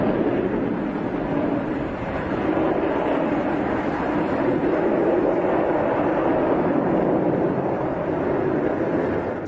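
The Concorde supersonic airliner in flight gives a steady, broad roar that holds at an even level for about nine seconds, with no voices over it.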